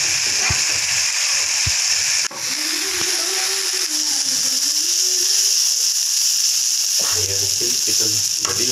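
Chicken for shawarma sizzles and bubbles steadily in its own juices, a constant close hiss with a few utensil clicks and scrapes.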